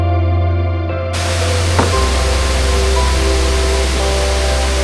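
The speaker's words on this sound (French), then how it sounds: "on arrive à la grande cascade qui a l'air magnifique" Large waterfall in Laos, a loud, dense, unbroken roar of falling water close by, with a low rumble beneath and no voices.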